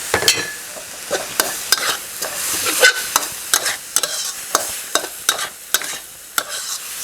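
Minced pork stir-fried with holy basil leaves and dried chilies, a steady sizzle broken by repeated sharp scrapes and clacks of a spatula against the pan, close and fairly loud, with no talking.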